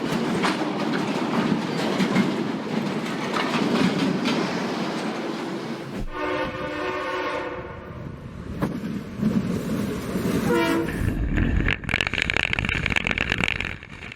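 Retired rail cars roll along the track with a loud, continuous rumble and rhythmic clickety-clack of wheels over rail joints, joined midway by squealing wheel tones and metallic screeches.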